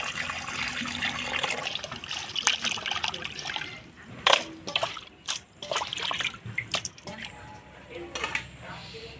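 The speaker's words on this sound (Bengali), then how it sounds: "মাংসটা পরিষ্কার করে ধুয়ে নিলাম" Raw chicken pieces rinsed under running water for a curry, a steady trickle and splash with intermittent sharper splashes and handling knocks, close and moderately loud, with some talk in the background.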